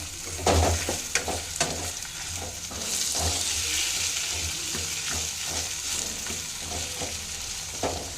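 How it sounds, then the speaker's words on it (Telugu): Tomato and garlic being stirred into radish chutney in a pan, with a constant frying sizzle and a series of irregular spatula knocks and scrapes against the pan, close by and with no speech. "టమాటా వేసుకుందామండి. తెల్లగడ్డ వేసుకుందాము. వేసుకొని ఒకసారి బాగా కలుపుకుందాము."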